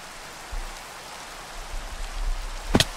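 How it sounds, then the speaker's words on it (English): Steady, soft rain hiss in the Minecraft video game, even and continuous, with faint low rumbles underneath and a sharp brief tap near the end; no speech. "It's been raining all night. I don't like the rain because it masks the sound of somebody potentially running up"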